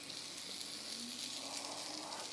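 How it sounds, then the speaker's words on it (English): Marmite hash brown dropped oil side down into hot oil in a home kitchen, giving a steady, close, dense sizzle that holds evenly throughout with no talking. "If it doesn't sizzle, it is not ready"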